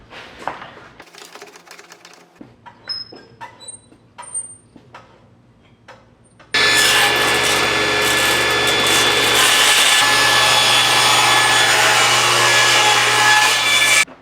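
A saw rips strips of wood for a segmented vase: quiet bench knocks and handling first, then a loud continuous power-saw whine that starts abruptly and holds steady to the end.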